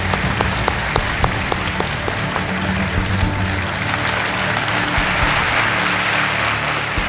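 A studio audience on Kaun Banega Crorepati bursts into sustained, dense applause to welcome a contestant, loud and steady throughout with no voices over it.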